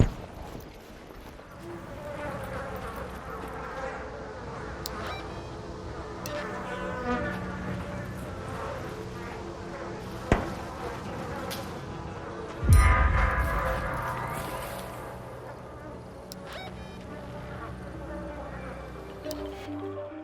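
Bees near beehives by an olive grove in the game ARC Raiders hum in a continuous buzzing drone, steady and close, with a sharp thump partway through.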